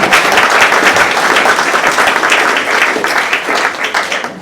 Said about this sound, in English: Another round of applause for these folks.